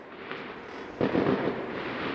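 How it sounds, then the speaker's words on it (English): Distant fireworks bursting during a scrap-yard look at a 2004 Fiat Doblo 1.9 JTD, a broad rumbling boom rising about halfway through over steady background noise. "That's one hell of a fireworks show going off there."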